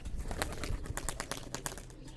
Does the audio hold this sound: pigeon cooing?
yes